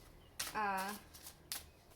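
Tarot cards are shuffled in a few short, crisp bursts, close and fairly quiet, with a brief voiced sound between them.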